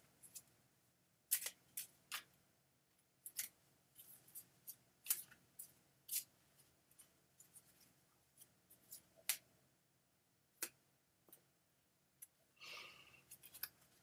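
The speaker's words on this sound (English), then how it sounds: "Shuffling away." A deck of cards is shuffled by hand, giving quiet, irregular crisp snaps and flicks spaced through the stretch, ending with a brief rustling riffle.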